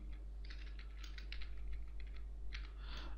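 Rapid clicking keystrokes on a computer keyboard as a script is typed on a Linux system, in quick uneven bursts with short pauses, close and fairly quiet, with no talking.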